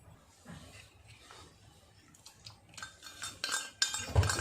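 Melted butter and chocolate being mixed in a bowl for eggless brownies, with a utensil scraping and clinking against the bowl, quiet at first and then louder, irregular strokes.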